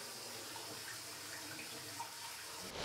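Tap water runs steadily into a container at a cemetery, a soft even hiss heard outdoors, fairly faint throughout.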